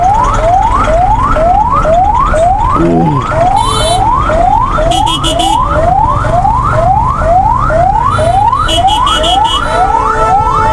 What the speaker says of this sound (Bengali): একটা অ্যাম্বুলেন্সের গাড়ি